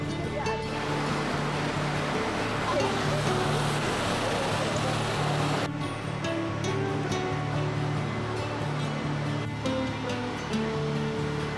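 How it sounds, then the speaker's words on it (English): A river current rushes through hilly country in summer, a loud, continuous broadband wash of flowing water that holds steady throughout, with a faint low rumble underneath. "revel in the soothing sound of the river current"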